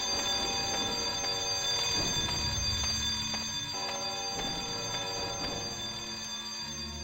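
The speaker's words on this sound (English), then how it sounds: "I hear a bell." A bell rings repeatedly in the Batman & Robin game on the PS1, with tonal chimes sounding over a steady game-music bed and no talking.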